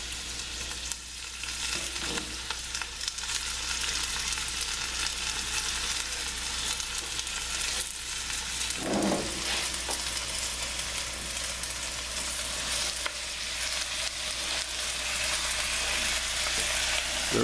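Tomato, mushroom and shallot topping frying steadily in a pan, a continuous close sizzle with a few brief stirring scrapes and no voices.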